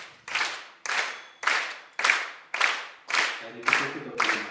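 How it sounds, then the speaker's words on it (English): An audience at a live Krishna Janmashtami celebration claps in unison, eight strong rhythmic beats evenly spaced about half a second apart, each with a brief room echo, faint background chatter beneath. "please clap your hands"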